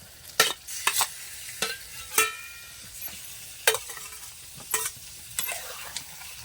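Chicken being stirred in a pot over a wood-fired village stove for a Dhangari-style dry chicken dish, with repeated scraping stir strokes over a steady soft sizzle, close and fairly quiet, no voices.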